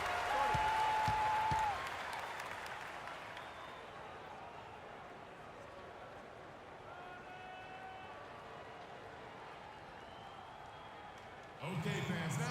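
Arena crowd in the NBA 2K16 basketball game, Houston Rockets versus Chicago Bulls, roars loudly for the first two seconds, then settles into a steady murmur of cheering and clapping before swelling again at the end.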